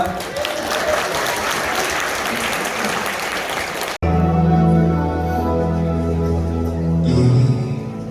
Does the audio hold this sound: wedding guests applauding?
yes